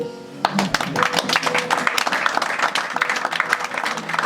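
A church congregation at a night prayer sermon breaks into loud, dense applause that begins abruptly and carries on steadily, with a few voices mixed in.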